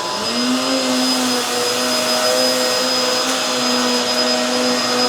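Hoover Tangle Guard vacuum cleaner running over a rug, a loud, close, steady motor roar with a high whine that holds for the whole stretch, the pitch wavering slightly as it moves, with no talking.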